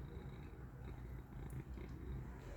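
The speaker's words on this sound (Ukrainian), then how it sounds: "Ну, чуєте, як мурчить?" Steady, low rumbling purr of a cat, close and soft, with a continuous throbbing rhythm and no other sounds.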